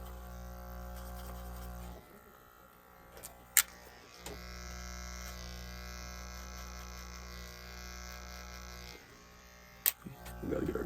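A hair clipper blends short hair for a mid taper, its steady electric buzz running close and continuous, cutting out briefly twice, with a couple of sharp clicks where the blade meets hair or comb.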